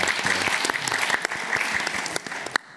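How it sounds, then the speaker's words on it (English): Applause from the audience at a rare disease documentary screening panel, sustained clapping that rolls along evenly and then cuts off abruptly near the end. "Big round of applause for y'all."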